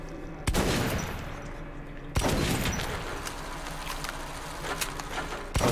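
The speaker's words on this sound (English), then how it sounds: "So I gotta shoot right and left with the shotgun?" Shotgun fire in the video game Metro 2033: two loud, sharp blasts roughly two seconds apart, each followed by a long echoing decay, with another abrupt blast at the very end.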